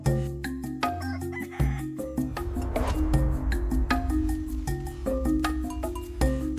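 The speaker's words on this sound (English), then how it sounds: "Near the spring, I spot a female jungle fowl in a tree." A female jungle fowl calls from a tree near a spring in the wild, clucking and crowing-like notes repeating in quick bursts, fairly close and clear against a faint outdoor background.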